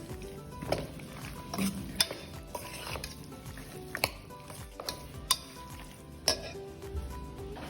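Red chili powder stirred into a Coorg-style pork curry sizzling in a pan, with a gentle frying hiss broken by sharp, irregular clinks of the spoon against the pot.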